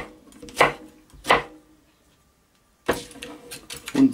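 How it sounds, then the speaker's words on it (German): A knife slicing a green bell pepper into strips on a cutting board, heard as two crisp close chops, a pause, then a quicker run of cuts, with no talk. "Dann nehme ich noch eine halbe von der Paprikaschote, von der grünen. Kerngehäuse rausnehmen. Auch in Streifen schneiden."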